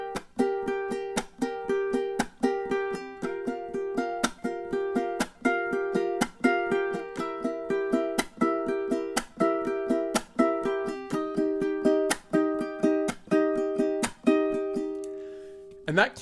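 A ukulele strums higher chords in a steady, even rhythm of bright, ringing strokes, each chord sustaining briefly before the next, played close and clear with no talk over it.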